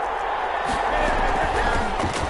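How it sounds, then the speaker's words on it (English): Stadium crowd noise inside a domed arena in a PS4 football video game, a dense, steady roar of cheering with scattered claps, heard under play-by-play commentary. "The crowd here in the Dome making things difficult."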